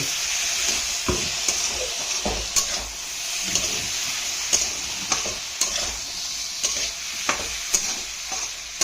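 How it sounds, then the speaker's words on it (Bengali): Poppy seeds frying in hot oil for an egg dish, with a continuous loud sizzle and regular scraping, tapping stirs of a utensil against the pan. "ডিমটা ভাজবো বলে তেলটা গরম হয়ে গেছে। পোস্ত দেওয়া হবে এর মধ্যে, পোস্ত দেওয়া হয়ে গেল।"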